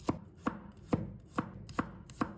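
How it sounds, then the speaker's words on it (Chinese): A knife cuts garlic cloves into slices on a cutting board, six crisp evenly spaced knocks at a steady unhurried pace, close and clear with no voices. "接着再准备一把大蒜，给它切成片。"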